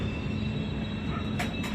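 Another train passing close alongside a moving express train at night, a steady dense rail rumble with a couple of sharp bursts near the end as the cars rush by; no talking.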